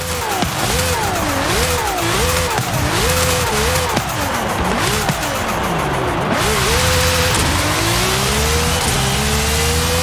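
A Lamborghini Huracan EVO fitted with a racing V12 screams in Forza Horizon 5, loud and close, revving up and down in repeated quick bursts before climbing through gears in long rising pulls, with tire squeal.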